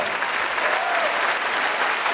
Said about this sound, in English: I want this crowd to give you a big hand